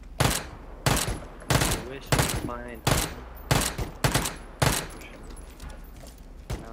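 Gunfire in the battle royale video game PUBG comes as loud, sharp bursts repeating roughly every half second to a second throughout, with players talking between the shots.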